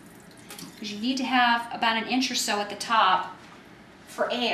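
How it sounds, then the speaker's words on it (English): Excess water is poured off a homemade kefir soda jar into a sink, a running splash heard under a person speaking throughout. "I'm going to pour a little bit off because you need to have about an inch or so at the top"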